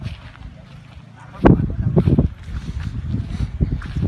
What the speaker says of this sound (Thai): มันก็จะมีลมนะครับผม ในตอนเช้าแล้วก็ทำให้มี คลื่นน้ำนะครับผม